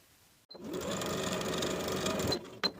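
A sewing machine runs in one steady burst of rapid stitching for about two seconds while basting the top edge of a pant pocket onto the front pant piece, close and clear, then stops with a short click.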